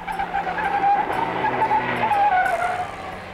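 Car tires squeal and howl through hard cornering during tire testing, the rubber pushed until it smokes; a wavering high-pitched screech rises over engine noise for about three seconds, loud and close, with no voices.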